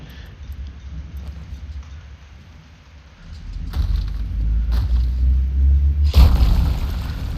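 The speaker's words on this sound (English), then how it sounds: "The lightning storms here are crazy. I mean, it's almost like constantly raining and constant lightning." Deep rolling thunder from a lightning storm in the video game RuneScape Dragonwilds, a steady low rumble that swells louder midway and peaks in a sharp crack near the end, with a constant wash of rain-like noise underneath.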